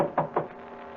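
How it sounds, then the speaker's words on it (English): Two firm knocks on a wooden door land about a fifth of a second apart, close and fairly loud, followed by a quiet room tone, as staged for an old-time radio drama. "Then I knocked again."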